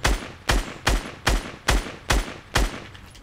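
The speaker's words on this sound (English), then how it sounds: "How did none of those shots hit?" Gunshots from Fortnite solo gameplay, seven sharp loud blasts fired at a steady, roughly half-second rhythm, each with a short decaying tail, alone with no speech.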